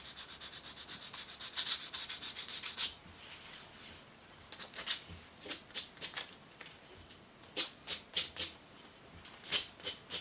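Abrasive paper rubbing over a homemade fret levelling file with glue residue, heard as irregular scratchy strokes, some in quick runs and others as isolated swipes, close and fairly quiet with no talk.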